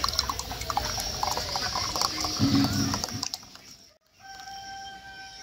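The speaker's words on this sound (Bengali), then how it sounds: "এই দুধটা খুব হালকা গরম আছে, এইবারে দিয়ে দেবো এই ভাঁড়ের মধ্যে।" Lukewarm milk poured into a small clay pot while making Bengali mango mishti doi. A steady liquid pour runs for about three seconds against a noisy kitchen background, then stops and leaves a quieter hum.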